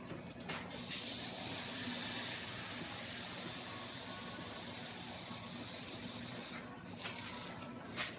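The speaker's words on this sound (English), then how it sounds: "We're going to pour enough to cover this meat." Hot water poured into a pan over cube steak for gravy, a steady close splashing hiss that runs nearly unbroken for about eight seconds, with slight surges near the start and end.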